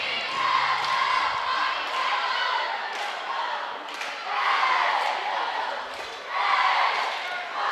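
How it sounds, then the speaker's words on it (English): Crowd at a high school basketball game in the Dons vs Malden matchup, a steady mid-distance roar of voices swelling and easing, with a commentator talking over it. "there's a pretty good crowd here for the first home of the game of the season"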